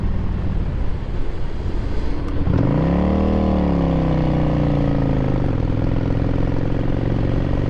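A 2008 Yamaha V Star 1100 Classic cruiser motorcycle rides along with a deep, steady engine drone, revving up and settling back as it accelerates, with wind rushing over it.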